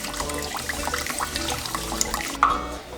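A cup of water pours for teriyaki sauce, a continuous splashing trickle with small drips and a brief louder splash near the end, close by, with no talking.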